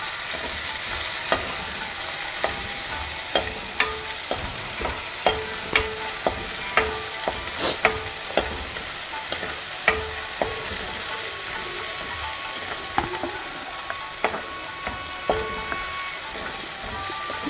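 Methi rice bath being fried in a pan, a Karnataka-style lunch dish, with a steady sizzle and frequent sharp clicks of a spoon stirring against the pan, close and alone without talk.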